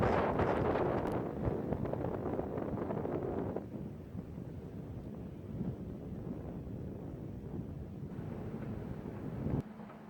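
Wind roars through a snowstorm, a loud continuous rushing with mic buffeting that eases slightly partway through and then holds steady, with no voices.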